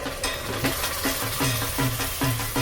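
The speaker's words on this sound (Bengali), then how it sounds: "এবার এই যে পেস্ট মশলাটা এটাতে আমি এই মশলাটার মধ্যে দিয়ে দেব।" Spice paste sizzling as it fries in hot oil with a tomato masala, with rhythmic stirring strokes scraping the pan about every half second, close and steady.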